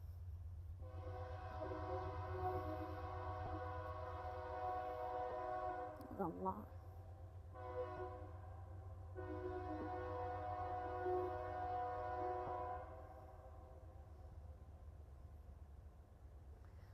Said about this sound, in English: Here it is, the train.